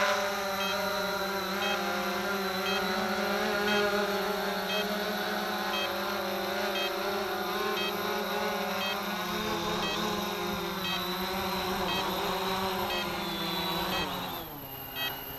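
A Cheerson CX-20 quadcopter drone descends to land, its steady whining rotor drone holding level and continuous, with the pitch shifting slightly near the end.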